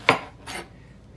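A knife cutting along the sides of a citrus fruit, two short scraping strokes in quick succession, the first sharper and louder, the second softer and longer, then near quiet.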